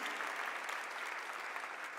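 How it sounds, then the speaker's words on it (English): Steady applause from a crowd at a Baltimore mayoral inauguration, even dense clapping heard at a distance and sustained throughout without a break. "Let's give everybody up here a round of applause, please."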